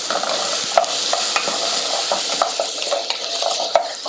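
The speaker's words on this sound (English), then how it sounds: "So now we're going to cook the onion and the carrot for about 6 to 7 minutes" Chopped onion and carrot fry in an oiled pan with a dense, steady sizzle, punctuated by sharp clicks and scrapes of stirring against the pan, close and loud, with no talking.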